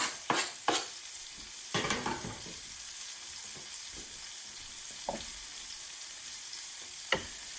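Chopped mushrooms, shallot and garlic hit a hot pan, giving a few sharp spatula clatters and pops at the start over a steady low sizzle that continues with occasional scraping taps.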